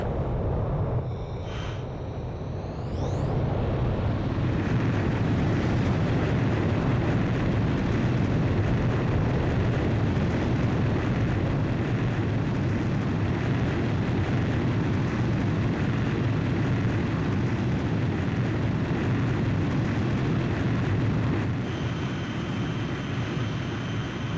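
Jet fighter taking off by catapult launch from an aircraft carrier in the Ace Combat 5 video game: a steady, loud, broad engine roar sustained throughout after a brief rising whine at the start.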